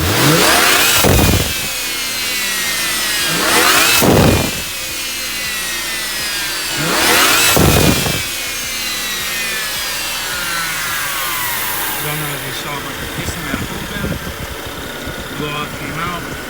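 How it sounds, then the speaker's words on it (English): A BMW 535 N54 engine revs up three times in quick bursts, each followed by a sharp hissing whoosh from the blow-off valve venting air, then idles with a rough rattle. "Blow off came out, closed back before the revs came back down"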